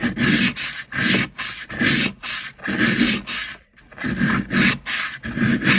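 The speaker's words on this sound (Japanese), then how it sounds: "この布やすりを包丁に引っ掛けるように力を入れる。" Rhythmic rasping strokes of abrasive cloth rubbed along a rusty kitchen knife blade, hand-polishing it, repeating back and forth at a steady pace, close and clear.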